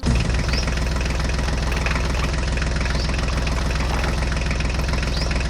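A mini tractor engine runs at a steady idle, loud and close, with a rhythmic chugging knock that holds unbroken for several seconds. No one speaks.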